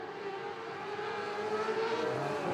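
Race cars lapping the Nelson Speedway oval, a steady engine drone with a rising pitch as the field circulates, heard from a moderate distance and holding constant loudness.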